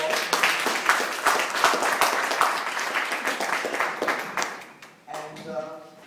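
A magic show audience gives a burst of loud, dense clapping that thins out and fades near the end, followed by a brief voice.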